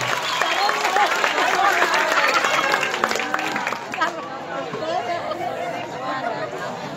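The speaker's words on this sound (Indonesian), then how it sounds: "Kasih tepuk tangan yang meriah buat Muhammad Faisal." Crowd applause for a young Quran memorization student at a Maulid Nabi celebration in an Islamic boarding school in Bali, with dense clapping and chatter for about four seconds before easing into murmuring crowd noise.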